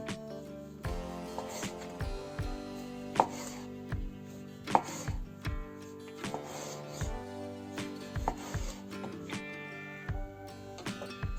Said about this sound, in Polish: Pomidora kroimy w plasterki.